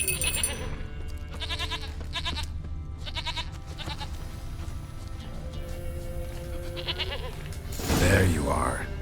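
A goat in The Witcher 3 bleats in several short, wavering bursts with gaps between them, heard close against a quiet ambient game background, followed by a louder rustle near the end.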